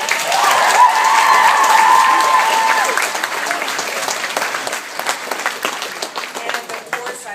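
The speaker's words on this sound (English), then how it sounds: "Let's give her a round of applause." Loud, sustained audience applause fills a theatre at a special Riverdance performance at the Gaiety. A voice is briefly heard early on, then the clapping thins and fades.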